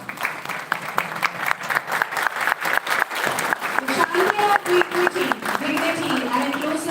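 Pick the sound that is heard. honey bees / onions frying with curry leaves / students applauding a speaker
students applauding a speaker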